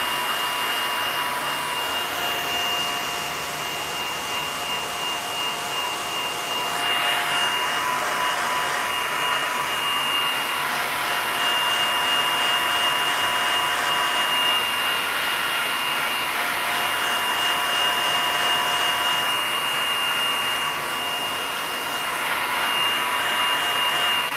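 A hair dryer blows steadily on wet acrylic paint during an ocean painting, a continuous whooshing hum with a faint whine, fairly loud and unbroken throughout with no talk.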